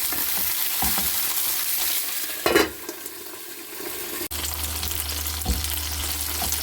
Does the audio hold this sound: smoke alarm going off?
no